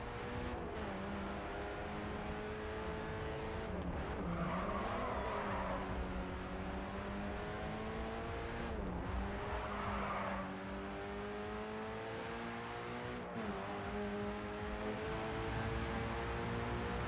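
Race cars in the video game Grid 2 on a Paris time-attack circuit, a continuous engine whine rising and falling through gear changes, with tire squeal during skidding corners, loud and constant.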